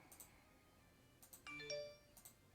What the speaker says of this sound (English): that's my phone sending me a notification